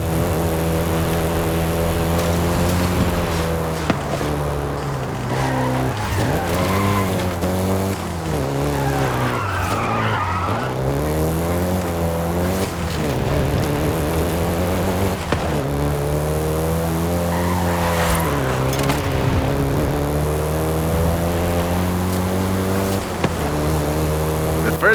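A Volkswagen Golf GTI in the Forza 5 racing game, its engine note rising and falling through gear changes while tires squeal and skid repeatedly, loud and continuous throughout.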